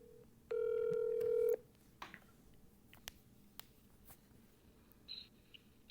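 A telephone call connects, starting with a steady one-second dial or ringback tone followed by faint clicks and small handling noises, heard close with no talk.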